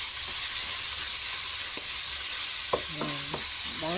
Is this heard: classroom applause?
no